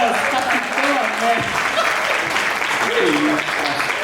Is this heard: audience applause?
yes